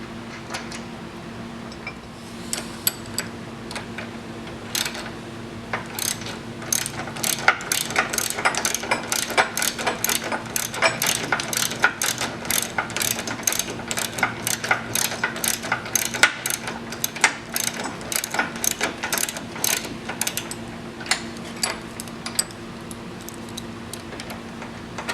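Ratchet wrench snugging up bolts to mount a GrassFlap onto a 2019-or-older Wright stand-on mower, a long run of quick, close metallic clicks in bursts with a steady low hum underneath.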